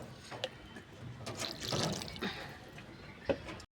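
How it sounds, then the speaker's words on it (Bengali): Water is poured into a cooking pot holding potatoes and pointed gourd with prawns, making faint splashing and trickling with a few small drips and clinks, quiet and close by. "তাই আরেকটু জল দিয়ে দেব"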